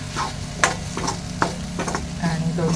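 A piece of ginger sautés in a little oil with a continuous sizzle, punctuated by rhythmic stirring scrapes and taps of a spatula against the pan.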